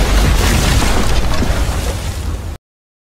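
A bomb exploding in The Walking Dead video game: one loud, close, rumbling blast with heavy low-end boom that sustains for about two and a half seconds before cutting abruptly to silence.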